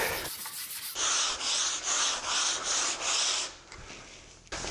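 Steady rhythmic hand sanding on wood with a sanding block, with the grain, five long even strokes back and forth, close and fairly loud, ending with a brief pause and scrape.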